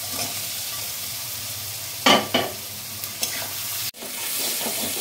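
Fried taro being stirred into spices in a pan, with a steady low sizzle and a couple of sharp scraping stirs partway through, close and clear with no talk.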